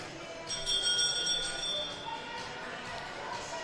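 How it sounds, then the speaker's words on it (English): A bell rings to signal the first elimination at an international arena competition, clear ringing tones over a low hum of crowd and commentary. "Bell for the first elimination."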